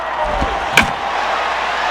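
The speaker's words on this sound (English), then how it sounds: "a swing and a ball hit well down the left field line" A bat cracks a baseball in the MLB 09 The Show video game, a single sharp, loud hit rising briefly above steady stadium crowd noise.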